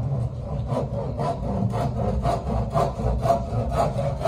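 A hand saw rasps through wood for a wooden table in a steady back-and-forth rhythm, each stroke clear and close, with no talking.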